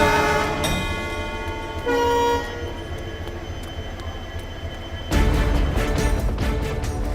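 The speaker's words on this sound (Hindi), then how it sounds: "हमारे सामने 10956 नंबर की ट्रेन है" Train number 10956 bound for Mumbai sounds a sustained horn, with a second brief blast midway, then loud rolling wheel and carriage rumble takes over near the end; no talking.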